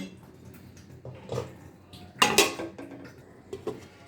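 A lid is set back onto a cooking pot of pulao, giving a sharp metallic clatter midway amid softer kitchen clinks, quiet and close with no talking.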